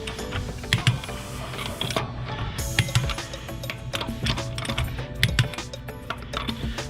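Wheel lug nuts on a Nissan 370Z being tightened with a torque wrench in a star pattern, a run of close, irregular mechanical clicks and ratcheting taps with small bursts of knocks, no voices.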